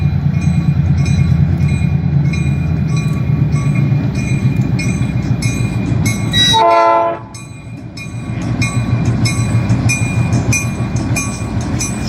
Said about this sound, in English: We lucked out this evening with a friendly honk from the engineer.